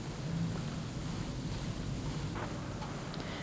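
Waves made by wavemakers in a wide wave tank, a continuous rushing wash of water with a low rumbling undertone, steady throughout with no voices.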